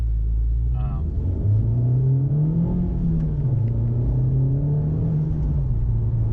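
A Honda Civic Type R engine pulls under acceleration, a steady low drone whose pitch rises and dips as the car gains speed, heard from inside the cabin with a voice talking over it.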